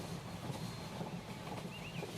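A cartoon-style train rolls past in a children's animal sound effect, a steady rhythmic clatter of wheels on rails with a brief high whistle-like squeal near the end, heard alone.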